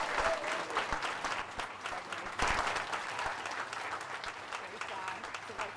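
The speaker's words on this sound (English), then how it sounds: "All right, big round of applause." Audience applauding at a 2018 Veterans Day ceremony right after a military oath of office, with steady, moderately faint clapping from a crowd and a brief louder swell midway.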